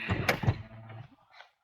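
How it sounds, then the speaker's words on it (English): Automatic sliding door on a camper van closing, a short motorized slide ending in a solid thunk, loud and close inside the vehicle. "I like the fact that I have an automatic door."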